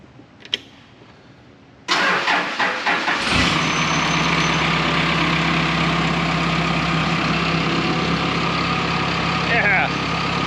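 A click, then an aircraft tow tug's engine cranks and catches after sitting unused, settling into a loud, steady rumbling idle close by.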